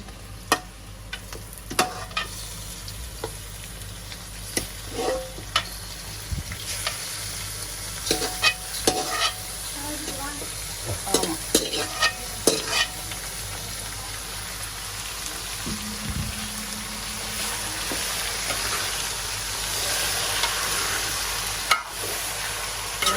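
Meat for a curry frying in oil while being mixed, a steady close sizzle with frequent sharp clicks and scrapes of a spoon against the pot, continuing for the whole stretch with no talking.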